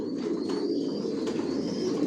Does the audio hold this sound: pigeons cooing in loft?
yes